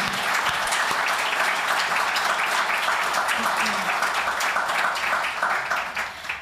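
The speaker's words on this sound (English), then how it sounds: "I think we should show a round of applause for our speakers this evening." Sustained, dense applause from an evening think-tank audience thanking its speakers, loud and steady for several seconds before tapering off near the end, with faint voices underneath.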